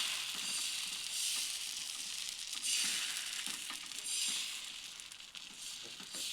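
Patishapta pitha batter spreads across a hot tawa over a low gas flame, making a soft, continuous hiss with faint scraping textures throughout.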